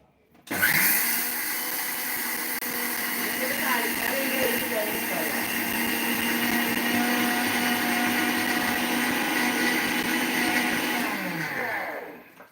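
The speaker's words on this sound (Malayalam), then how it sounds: "എനിക്ക് മിക്സിയിൽ എത്ര കിലോ അരി ഉണ്ടെങ്കിലും ആറ് കിലോ അരി വരെ ഞാൻ പൊടിക്കാറുണ്ട്" A mixer grinder grinds rice into flour for puttu, a loud continuous whirring roar that starts abruptly, holds steady for about eleven seconds and then cuts off.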